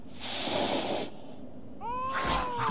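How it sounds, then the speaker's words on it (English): A cat in the video game Tokyo Jungle hisses harshly, then gives a drawn-out, wavering meow, close and clear over faint game background with no talk. "It's the fat cat! It's the true boss! Fat cat!"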